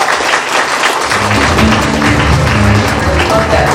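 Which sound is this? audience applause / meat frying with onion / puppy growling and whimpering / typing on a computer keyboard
audience applause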